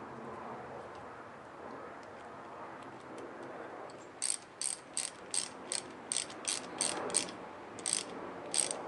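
A hand ratchet clicks rapidly and close while tightening a part during a turbo installation on a Scion FR-S, about a dozen sharp ticks after a quieter stretch of workshop noise.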